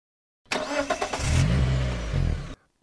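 A car engine starts and revs, then pulls away, steady mid-range engine noise for about two seconds before cutting off abruptly.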